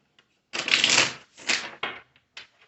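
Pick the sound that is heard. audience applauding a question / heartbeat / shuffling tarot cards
shuffling tarot cards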